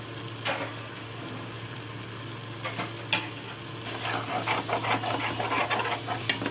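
Masala sizzles and fries in a pan while being sautéed for mutton biryani, a steady hiss with occasional stirring scrapes that grows slightly louder toward the end.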